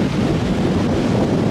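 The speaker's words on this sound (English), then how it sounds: "I told you it was windy." Strong winter wind gusts buffet the microphone on the Lake Michigan shore near Sleeping Bear Dunes, a loud, close, unbroken roar with no talking.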